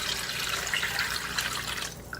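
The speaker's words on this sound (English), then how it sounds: "I'm going to add 4 cups of water to this." Steady rush of tap water pouring into a pot of chicken feet in a home kitchen, continuous and fairly loud, easing slightly at the very end.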